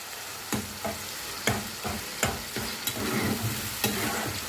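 Chicken pieces fry in oil over medium heat, giving a steady close sizzle broken by repeated scraping and stirring strokes of a spatula in the pan, with no talking.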